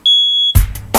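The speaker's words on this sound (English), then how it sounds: "you're not supposed to use a smoke detector when you're done cooking the eggs" A household smoke detector goes off after eggs are cooked, sounding one loud, steady high-pitched beep for half a second, followed by sharp clattering thumps and bursts of noise close by.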